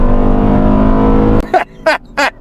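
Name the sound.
Honda Odyssey 2026 minivan engine accelerating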